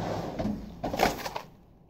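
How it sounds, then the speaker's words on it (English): A desk drawer sliding open, a short soft scrape and thump at close range with a faint rattle of contents, no talking. "Top left-hand drawer of my desk."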